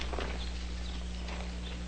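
Horse hooves clip-clop at a steady walking pace near a frontier cabin in an old Western, faint and low under a constant hum, with no voices.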